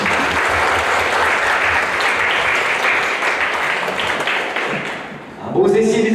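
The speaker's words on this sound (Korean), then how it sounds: "어머니들을 향해 크게 격려의 박수를 한번 하도록 하겠습니다" A church congregation applauds the mothers at a Sunday worship service, a dense, steady wash of clapping filling the room for about five seconds before a voice begins speaking as it fades.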